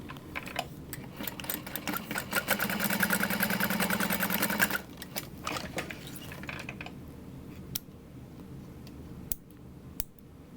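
A sewing machine top stitches the bottom edge of a fabric sling, running in a fast rapid whir for a couple of seconds before slowing to a stop, followed by scattered faint clicks and handling noises.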